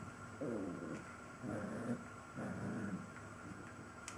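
A dog playing tug lets out three rhythmic bursts of low growling, fairly faint and close, with no talk.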